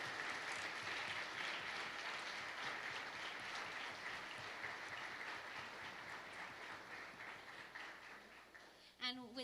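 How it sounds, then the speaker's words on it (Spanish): A conference audience gives sustained applause for the Prime Minister of Saint Lucia, a steady dense roar of clapping that fades slightly toward the end. "Ayúdenme con unos aplausos para el primer ministro."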